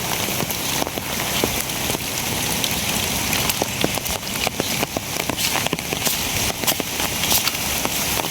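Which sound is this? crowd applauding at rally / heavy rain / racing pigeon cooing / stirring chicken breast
heavy rain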